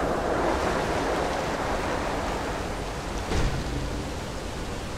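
Water pouring into a bucket in the video game Rise of the Tomb Raider, a steady rushing wash that runs alone for the whole stretch, with a brief bump of louder splashing near the end.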